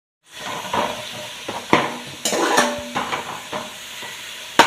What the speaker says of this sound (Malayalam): ഉള്ളിയൊക്കെ ഒന്ന് വാട്ടിക്ക് വരുന്നുണ്ട് കേട്ടോ